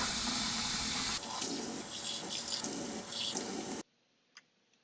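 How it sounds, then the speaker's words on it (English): Tap water runs steadily into a kitchen sink during dishwashing, a continuous splashing rush that cuts off abruptly, leaving near-silence with one faint clink. "I'm washing the dishes."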